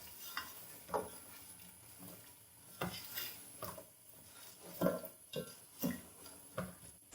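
Boiled beef gets fried in masala for Bannu pulao, with quiet irregular scrapes and clinks of a spoon stirring in the pot over a faint sizzle, each stroke a soft isolated knock.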